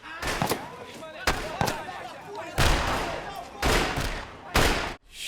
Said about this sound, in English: man's coming in here guns blazing